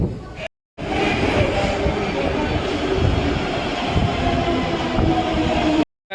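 Delhi metro train in motion, heard from inside the carriage as a steady loud rumble and rattling rail noise, broken by two brief silent gaps.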